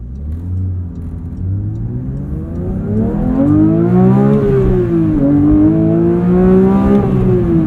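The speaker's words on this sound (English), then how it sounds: "You really have to adapt to how high this thing revs." A 2022 Porsche 911 GT3 with manual gearbox revs hard from inside the cabin, engine note climbing steadily through the gears in rising harmonic sweeps, loud and continuous with no talking.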